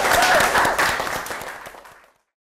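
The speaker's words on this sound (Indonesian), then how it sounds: "Boleh kasih tepuk tangan dulu." Students in a high school biology classroom give a short burst of applause that starts loud and dense, then tapers quickly into silence within about two seconds.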